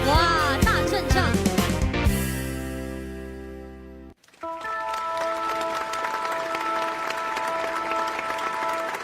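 Audience applause on a TV sing-along show welcoming a singer: a sustained broadband wash of clapping begins after the music breaks off and continues steadily under held musical tones.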